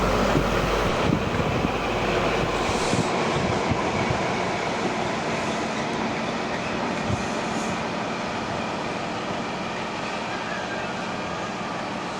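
A diesel train rumbles past close by at a damp depot in Upperby, Carlisle, a steady heavy roar of engine and wheels that holds for several seconds and slowly eases.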